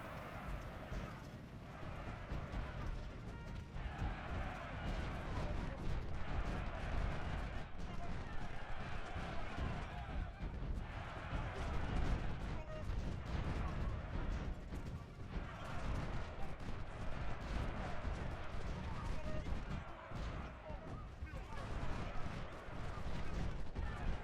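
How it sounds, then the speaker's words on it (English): Artillery canister fire from Ultimate General: Civil War at Antietam, a dense, continuous battle din of booming cannon and crackling gunfire that holds at a steady loud level throughout, with a voice talking over it. "That was canister fire."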